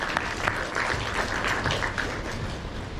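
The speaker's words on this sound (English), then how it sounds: "Give me a round of applause." A college class gives a round of applause during a hypnosis presentation: a dense, steady wash of clapping from many hands, fairly close and unbroken for a few seconds.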